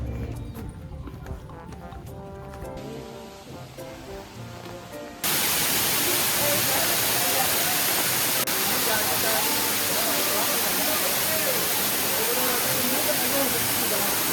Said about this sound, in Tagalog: we are here at Canto Lapo Waterfall